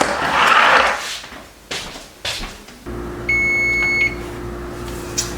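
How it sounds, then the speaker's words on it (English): A kitchen oven timer being set for baking cookies, a few short button chirps followed by a sustained electronic beep, with quiet handling sounds around it. "I'm going to put them in the oven. I'm going to set my timer for 9 minutes."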